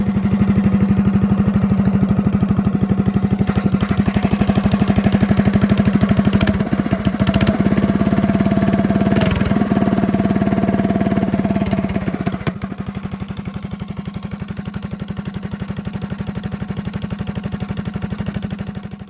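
A Cat Slingshot mini bike engine runs steadily at a loud, close idle with an even putter, then settles to a slightly quieter idle for the remainder, with no voices.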